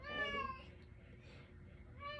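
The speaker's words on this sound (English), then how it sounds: "My cat wants to go outside badly now. So that's why he's meowing." A male cat meows insistently to be let outside, a drawn-out, harmonic cry up front followed by a quieter second call near the end, heard close and alone over a low room rumble.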